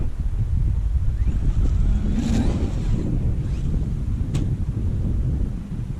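Traxxas XRT RC truck on paddle tires at a BMX park, its electric motor whining under steady broadband wind-like noise, with a brief sharp impact near the middle as it lands a big jump.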